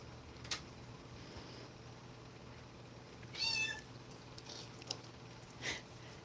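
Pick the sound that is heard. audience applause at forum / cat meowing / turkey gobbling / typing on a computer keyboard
cat meowing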